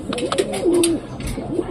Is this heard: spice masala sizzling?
no